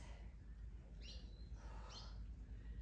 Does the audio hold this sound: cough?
no